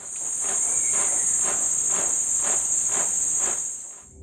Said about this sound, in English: beating their wings in synchronized fashion